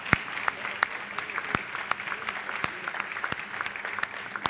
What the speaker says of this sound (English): Everybody, big round of applause for Simon Clennell.